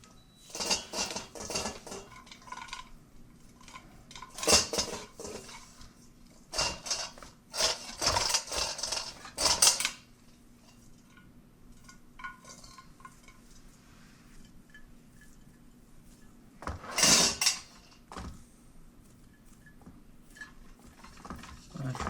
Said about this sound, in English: Let me go get my dish.